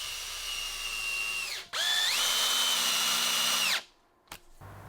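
A power drill drives screws into wooden boards for a glued garden bench top, two sustained whirring runs with a brief pause and pitch shifts, up close and loud with no talk, ending in a quiet tail.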